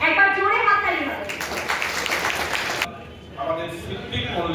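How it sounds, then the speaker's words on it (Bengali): Audience applause at a cooperative bank celebration ceremony in Bankura, a burst of clapping lasting about a second and a half between stretches of amplified speech. "একবার জোরে হাততালি হবে"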